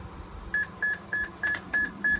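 An Ademco 685 digital receiver sounds a fire alarm as a regular series of six short, clear electronic beeps, evenly spaced about a third of a second apart, over faint background hum.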